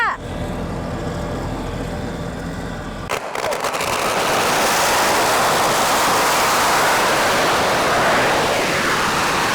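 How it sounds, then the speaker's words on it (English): A string of firecrackers erupts into rapid, dense crackling pops after a low engine hum, the bursts continuing loudly and without pause to the end, in Nakhon Si Thammarat, Thailand. "Firecrackers. Holy. Wow."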